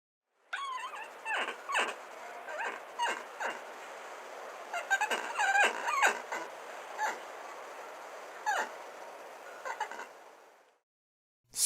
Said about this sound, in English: spider monkey